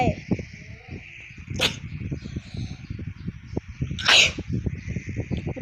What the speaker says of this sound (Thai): จามด้วยเนี่ย